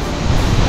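A Himalayan waterfall crashes down close by, a dense, steady roar of falling water mixed with the gusty rush of wind it stirs up.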